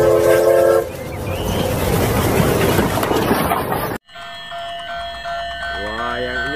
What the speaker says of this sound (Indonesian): kita lihat kereta apinya lagi berputar teman-teman.